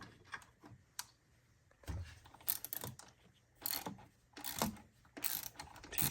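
A small wrench fitted with a Torx T30 bit backs out loosened screws on a Toyota Supra MKV A90 during a turbo kit install, giving repeated ratcheting clicks and metallic rattles in short bursts, close up with no talk.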